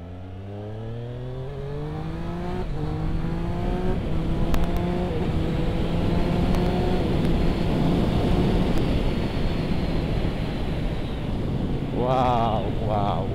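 A Triumph Street Triple 765 RS motorcycle accelerating hard, engine note climbing through rising revs and gear changes, loud and close with wind rush, and a brief whine-like sweep near the end.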